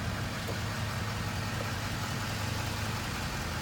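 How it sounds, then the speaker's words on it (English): A truck's engine runs at a low, steady idle as the truck pulls ahead after unhooking from a fifth wheel trailer. The rumble is even and moderately quiet throughout, with no talking. "so now we can pull the truck ahead"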